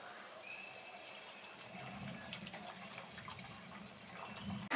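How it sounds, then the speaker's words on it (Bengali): Hot water poured from a vessel into a fried, oil-separated masala for fish egg curry, a steady close splashing and gushing that runs unbroken for several seconds with no talking. "এরপর এর মধ্যে আমরা আগে থেকে গরম করে রাখা জল দিয়ে দেব"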